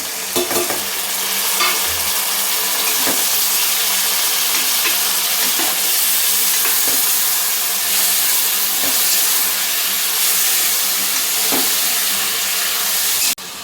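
Chopped tomatoes frying with peas in a hot pan for tomato bath, giving a loud, continuous close sizzle and hiss with occasional small clicks of stirring, with no talk.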